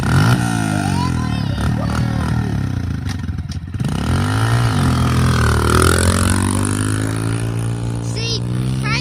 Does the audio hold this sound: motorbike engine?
yes